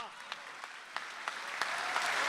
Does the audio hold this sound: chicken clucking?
no